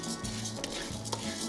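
Dry rice grains poured into a hot pan and stirred as they roast, giving a steady close scraping and rattling against the metal with a few sharper clinks and no voices.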